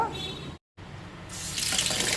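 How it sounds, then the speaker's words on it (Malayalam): Tap water runs into a sink as chopped cabbage is washed, a steady broadband gush that cuts out briefly and then returns louder and brighter, with no voices. "ഇനി ഒരു 3 പ്രാവശ്യമെങ്കിലും വെള്ളം മാറ്റി കഴുകിയെടുക്കണം."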